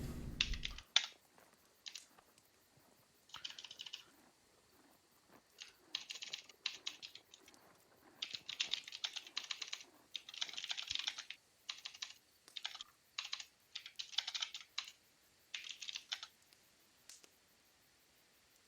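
Fingers type on a computer keyboard in quick irregular bursts with short pauses between them, the clicks close and fairly quiet, with no talk over them.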